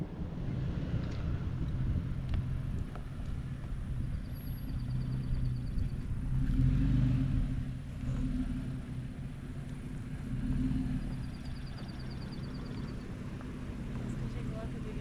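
A vehicle rolls downhill on a Colorado mountain road, giving a steady low rumble with wind buffeting the microphone, while people talk inside over the drone.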